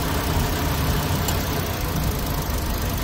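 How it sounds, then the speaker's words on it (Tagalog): The engine of a 2016 Toyota Vios, original and freshly oil-changed, runs close by at a steady idle with a continuous low hum. "maayos pa rin po yung condition ng engine niya"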